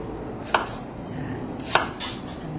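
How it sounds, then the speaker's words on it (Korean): An onion being chopped into half-moon slices on a board, two sharp knife strikes about a second apart plus a softer cut, close and clear with no talking. "양파는요, 반달형으로 썰어주세요."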